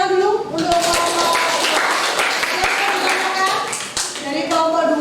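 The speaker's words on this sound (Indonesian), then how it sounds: "tepuk tangan dulu untuk kelompok" Applause from a classroom audience for a presenting student group: many hands clapping in a dense, steady patter with a few sharper claps standing out, while voices talk over the start and the end.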